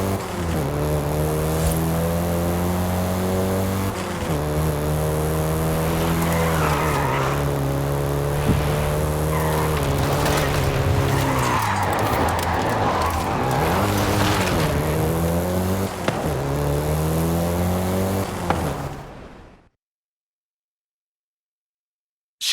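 A Volkswagen Golf GTI hot hatch in Forza Horizon 5 drives hard, its engine droning and shifting pitch through gear changes, loud and close for about twenty seconds before cutting to silence.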